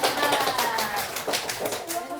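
A classroom group claps for group 4, with quick scattered hand claps mixed with voices over about two seconds.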